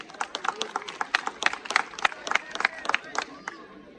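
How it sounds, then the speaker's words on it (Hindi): An audience at a tournament prize-giving ceremony in Jaipur claps for several seconds, a scattered, moderately loud patter of hands that thins out toward the end. "दोस्तों जोरदार तालियां के लिए।"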